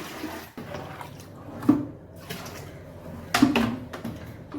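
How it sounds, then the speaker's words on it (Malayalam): Water is poured and splashed from a bucket into a tank for guppy fish, coming in uneven gushes with two louder splashing bursts among quieter trickling and sloshing. "ഇനി നമുക്ക് രണ്ടാമത്തെ ബക്കറ്റ് വെള്ളം എടുത്തോണ്ട് വരാം"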